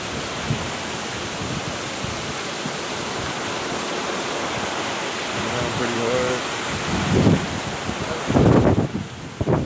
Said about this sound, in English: Starting to thunder out here.